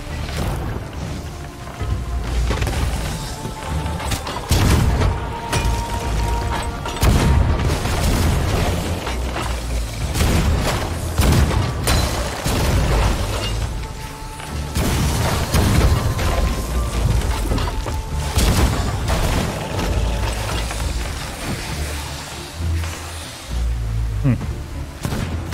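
Heavy booming cannon shots fire repeatedly in irregular bursts in the game Sea of Thieves during a Davy Jones boss fight, with rumbling impacts and voices talking over the barrage.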